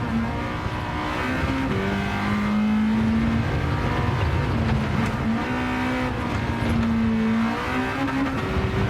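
A race car in the video game Gran Turismo 7 revs and shifts hard on a track, its engine note climbing and dropping in a loud, continuous stream with little talk.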